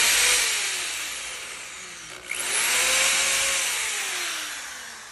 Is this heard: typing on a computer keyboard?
no